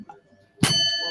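A sharp, bright ding rings out at a general science quiz bowl quarter final, striking after a near-silent pause and sustaining a shimmering metallic ring to the end.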